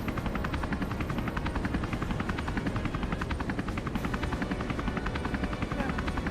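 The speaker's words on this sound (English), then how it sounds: "at least we got to see the helicopter" A helicopter in the video game Final Fantasy VII, its rotor giving a steady, loud rhythmic chopping throb that continues evenly throughout.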